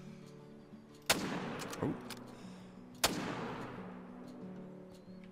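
Two loud .30-06 rifle shots ring out about two seconds apart at a bear in theHunter: Call of the Wild, each a sharp crack with a long rolling echo over quiet outdoor ambience, and a brief exclamation follows.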